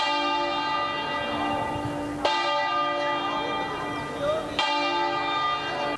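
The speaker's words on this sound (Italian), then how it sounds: "Tutte le chiese della diocesi hanno suonato le campane a lutto" Church bells in Treviso toll steadily for mourning, rich ringing harmonics sustained throughout, with fresh strikes around two and four and a half seconds; no voices.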